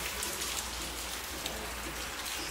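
Heavy all-day rain pours down on a motorcycle trip, a dense, even wash of drops hissing and spattering close by, with a low rumble underneath and no voices.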